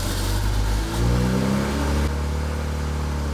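Close by, a BMW 135i's single-turbo N54 engine revs hard and loud. The pitch climbs and falls through a blip, then the engine drops back to a rough, throbbing idle.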